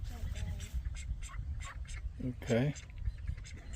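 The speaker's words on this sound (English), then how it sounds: "Mandarin ducks." Mandarin ducks in an aviary give a few short nasal calls, with one louder burst midway, heard under people talking nearby.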